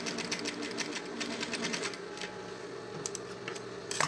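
A sewing machine stitches a seam in synthetic fabric on a school pencil case, running in quick rapid bursts of needle clatter that stop and restart, close and moderately loud.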